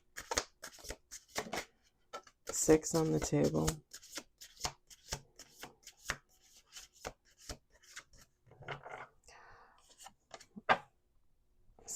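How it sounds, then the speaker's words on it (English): A deck of cards being shuffled up close, with quick crisp riffling bursts and scattered light taps and slides, while a quiet voice speaks briefly. "Last shuffle."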